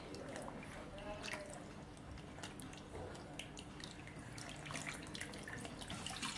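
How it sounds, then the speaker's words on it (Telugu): Tie-dyed cloth is rinsed in plain water, with steady splashing and sloshing plus scattered drips, continuous and fairly close. "ఫస్ట్ నార్మల్ వాటర్లో ఇలా కడిగేసేయండి"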